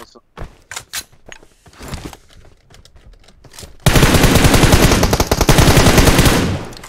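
Video game gunfire: a few scattered shots and clicks at first, then a loud sustained burst of rapid automatic fire fills the last three seconds.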